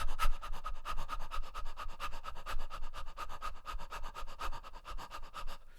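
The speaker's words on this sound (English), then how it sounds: "The next exercise is an audible fast pant like this." Rapid, audible dog-like panting from a person doing a breathing exercise, a close and even rhythm of quick in-and-out breaths continuing throughout without speech.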